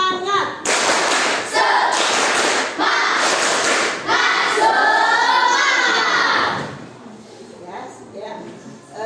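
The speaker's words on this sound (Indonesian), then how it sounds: "Tepuk semangat." Classroom of students doing a rhythmic spirit clap, several loud bursts of patterned clapping close by, separated by short pauses and then fading into quieter background chatter.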